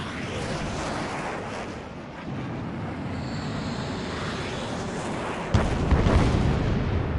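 An enemy bomber explodes as it is shot down in the combat flight game Ace Combat 7, a deep boom bursting over the constant roar of jet engines, loud and rumbling, with no talk.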